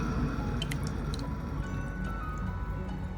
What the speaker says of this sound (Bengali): দেখো ড্রিপ করে করে পড়ছে ফিল্টারের গা থেকে।